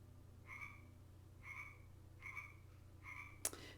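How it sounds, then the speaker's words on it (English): A frog croaks four times at a steady rhythm, each croak short and fairly near, over a low constant hum, with a sharp click near the end. "Can you guys hear the frog?"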